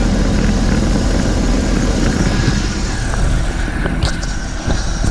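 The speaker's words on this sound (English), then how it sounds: "Engine runs pretty smooth." The 3.3 engine of a 25-year-old car idles with a loud, steady, smooth rumble close by, running continuously without revving.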